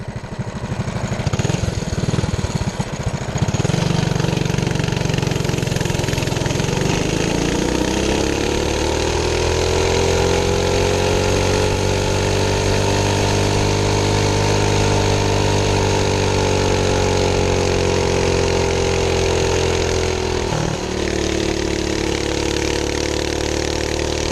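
A small engine on a cheap junkyard mini bike, revving up and holding a loud, steady, buzzing drone at full throttle for a top speed run, with a slight pitch dip near the end.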